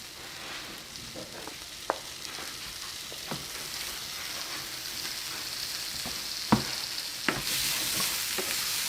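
Onions and sausage for rougail saucisse sautéing in a frying pan, a continuous close sizzle punctuated by several sharp scrapes and knocks of a utensil stirring against the pan, with the frying swelling louder near the end.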